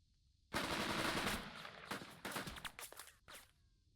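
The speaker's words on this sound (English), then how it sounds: "We're going to shoot them." Soldiers open fire in a tactical leadership war game: a long, loud burst of automatic gunfire followed by several shorter rattling bursts and single shots, ending abruptly.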